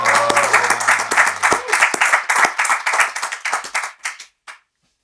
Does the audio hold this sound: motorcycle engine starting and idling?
no